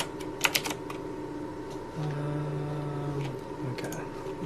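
Typing on a computer keyboard while coding, with irregular clusters of close key clicks spread across several seconds over a low steady hum, and no voices.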